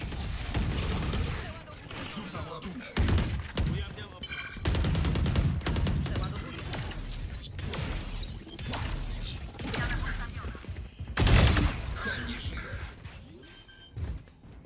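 Gunfire in the video game Valorant, with bursts of rapid shots and booming impacts dense throughout, loud and close, while players talk over the action.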